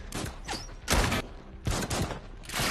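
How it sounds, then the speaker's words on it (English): Gunfire in an action movie scene as an attacker opens fire: several loud, sharp bursts of shots in quick succession, close and dominant, separated by short gaps. "Kris arrives and opens fire on El Corvo."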